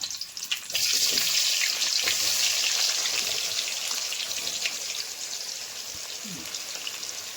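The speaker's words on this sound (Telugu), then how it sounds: "ఇప్పుడు ఈ ఆనియన్ బాగా ఫ్రై చేసుకోవాలి" Onions frying in a pan, a steady close hiss and crackle that holds for several seconds, with occasional small clinks.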